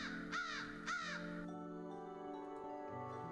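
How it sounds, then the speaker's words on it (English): A crow in the video game Fortune's Fragments gives two quick, loud caws near the start, followed by a calm tonal music backdrop that carries on alone. "The crow gobbles them up happily."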